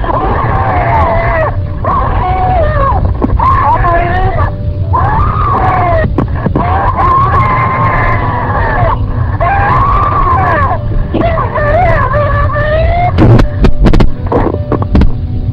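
A woman screams on a recorded 911 call, her cries rising and falling in wavering, distorted bursts over a constant loud low hum, with short gaps between screams and rough crackling toward the end.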